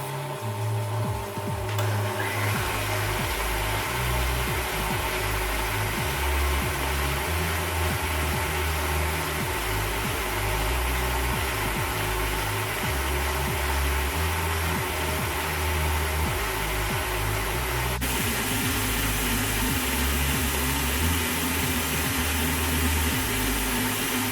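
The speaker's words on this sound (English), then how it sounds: "put it all in together and turn that on and whisk it until you've got the desired texture" An electric whisk beats choux pastry mixture, giving a steady, loud motor whine with a continuous churning drone throughout and no talking.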